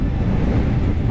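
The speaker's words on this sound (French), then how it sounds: "Le vent." Wind blowing across a snowboarding slope, buffeting the microphone with a steady, loud, low rumble for just over a second, no voices.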